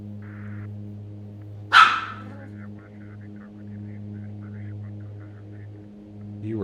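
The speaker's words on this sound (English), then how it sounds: "Dog fight." A single short, sharp dog bark or yelp cuts through a steady low hum while several dogs squabble over treats.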